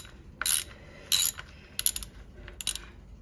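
A 9/16 wrench loosening a fitting on a heating pump, giving four short bursts of metallic ratcheting clicks with pauses between them, close and fairly quiet.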